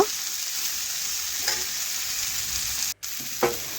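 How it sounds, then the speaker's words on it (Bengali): Green plantain pieces fry in hot oil in a wok while being stirred, giving a steady close sizzle with a few soft scraping stir sounds and one brief break near the end. "দেখুন এইভাবে নাড়াচাড়া করে একটু ভেজে নিচ্ছি।"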